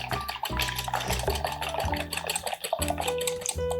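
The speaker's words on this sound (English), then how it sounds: "we mix or whisk all these ingredients together" Low carb, grain free soda bread ingredients are whisked together in a bowl, giving a quick, steady clatter of a whisk against the dish, close and alone without talk.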